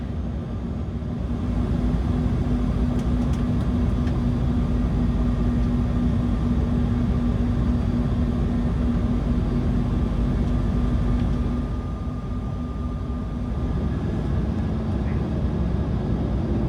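Steady roaring cabin hum inside a Qantas Embraer E190 jet descending through cloud toward Brisbane, a constant broadband drone with a low tonal whine, easing slightly near the end.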